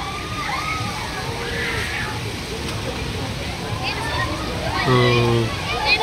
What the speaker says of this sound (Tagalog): wave pool ito. Tingnan nyo. Parang dagat ba? May mga umaalon siya guys.